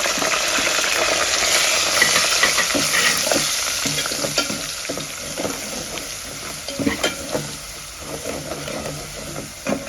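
Pounded black pepper and garlic hitting a hot pan of tomato rasam, a steady loud sizzle and fry with stirring clinks and scrapes throughout, close by and uninterrupted by talk.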